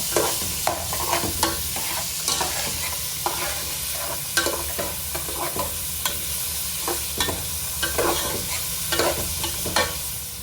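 Onions for a chicken curry fry steadily in a pan, a continuous sizzle broken by frequent scraping clicks of a spoon stirring them, close and fairly loud with no voices.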